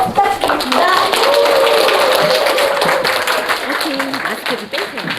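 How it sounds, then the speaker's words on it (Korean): Seminar audience clapping to welcome a speaker onto the stage, loud and close, with a few voices calling out over the applause as it slowly dies down. "나오실 때 큰 박수로 부탁드리겠습니다."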